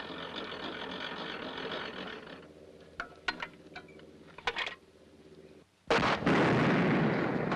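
A new artillery gun fires at a target in a 1944 comedy film: several sharp blasts and pops ring out over a steady rumble, then a massive, loud explosion roars and sustains to the end.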